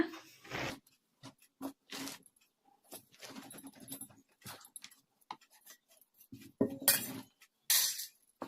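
Soaked, drained black-eyed pea lentils are scooped into a metal vessel in a village kitchen, giving scattered clinks, rattles and soft pours in short irregular bursts separated by quiet gaps.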